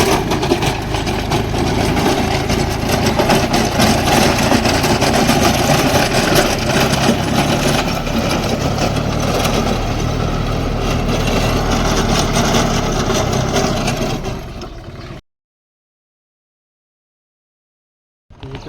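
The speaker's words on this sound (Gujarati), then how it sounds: "ટ્રેક્ટર આવી ગયું છે આપણે ખડું બનાવવા માટે" A tractor engine runs steadily on a farm, a loud continuous close rumble for about fifteen seconds before cutting to silence, with a faint sound returning at the very end.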